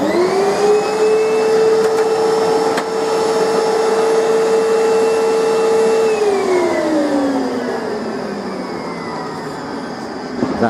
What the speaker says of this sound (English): And to do that, we've got a thing called a convac